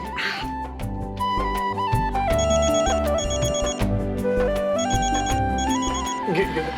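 A phone ringtone plays a loud, repeating electronic melody of bright stepped tones over a fuller musical backing.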